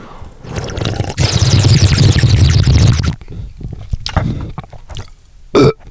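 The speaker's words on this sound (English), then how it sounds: "First burp." A long, loud, drawn-out burp lasts a couple of seconds, followed by quieter rustling and a brief squeaky noise.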